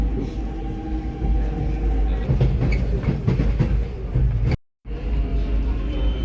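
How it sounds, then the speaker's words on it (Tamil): Melbourne train rolling into Flinders Street station, a steady low rumble with faint rail clatter and squeal, continuous and fairly close, briefly cut off near the end. "நல்ல கலரான ட்ரெயினாக இருக்குங்க."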